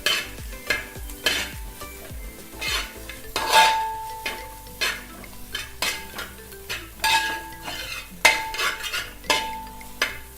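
Egg fried vermicelli being stirred in a pan: repeated scraping and clinking of a utensil against the metal in uneven bursts, with a steady sizzle underneath, close and fairly loud, no voices.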